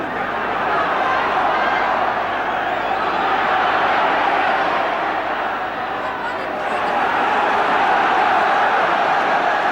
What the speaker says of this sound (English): Crowd getting behind Ipswich